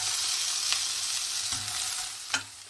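Carrots and onions stir-frying over a high flame for a Thai-style vegan tofu fried rice: a steady loud sizzle throughout, with three sharp spatula scrapes and clanks against the pan spaced across the short stretch.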